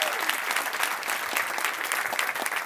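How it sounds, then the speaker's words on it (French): Applause from a crowd of students or young people gathered on a street in Lille, France, steady and dense clapping filling the whole stretch at close range, with faint voices mixed underneath. "ça mérite un applaudissement,"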